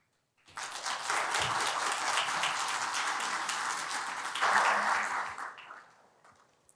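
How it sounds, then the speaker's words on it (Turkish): Audience applause at a human rights short film competition award ceremony, a steady sustained round of clapping that swells near the end before tapering off. "alkışı hak ediyorlar"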